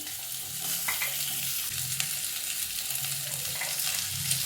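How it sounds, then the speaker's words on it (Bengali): Potato, pumpkin, spiny gourd, long beans and green beans sizzle and crackle steadily in a hot pan, with soft stirring scrapes over the continuous frying hiss. "আলু আর কুমড়োটা ভাজা ভাজা হয়ে গেছে এবার আমি দিয়ে দিচ্ছি কাঁকরোল বরবটি বিনস"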